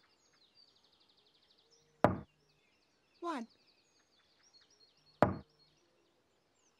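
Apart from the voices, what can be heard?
knocking on a door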